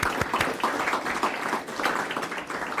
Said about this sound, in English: really a round of applause for Kathy and everybody who's been part of that